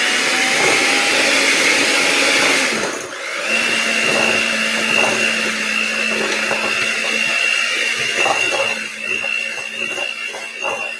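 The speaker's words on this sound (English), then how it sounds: "I got to use the mixer for a second because we're going to blend this all up" An electric kitchen mixer whirs steadily, blending keto baking ingredients in a bowl, with a high, loud motor tone that dips briefly in pitch and then settles back into a continuous drone.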